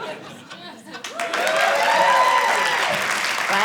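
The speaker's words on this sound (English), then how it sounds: "You need the applause, right?" Audience at a stand-up comedy show bursts into applause mixed with laughter and chatter after a punchline, rising quickly and holding at full strength, following a voice at the start.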